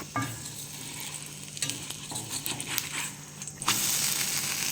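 A horse gram dosa fries in oil on a pan, giving a continuous sizzle with irregular scraping and crackling taps that swell into a louder, brighter hiss near the end, with no speech.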